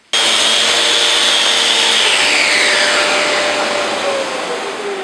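A Festool Rotex 150 sander with 80 grit working wood, a loud close whirring drone that starts abruptly and runs continuously, its pitch sagging slightly as it bears into the surface.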